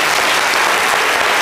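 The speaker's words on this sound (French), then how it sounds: "Applaudissez pour ça." A studio audience at a live television show applauds, a loud, continuous, close wash of clapping with no voices over it.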